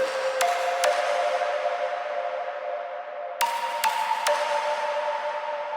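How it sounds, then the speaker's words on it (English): A reverb-heavy effects sound from a Vengeance sample pack rings out in a large hall-like space, with sharp pinging hits around 0.4, 0.8, 3.4, 3.8 and 4.3 seconds and sustained tones that decay into a long wash of echo. No one speaks. "a lot of hall sound, a lot of reverb."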